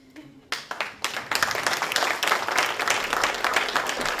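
Audience at a hockey awards ceremony breaks into applause, starting with a few scattered claps and swelling into dense, sustained clapping from a crowd in a hall.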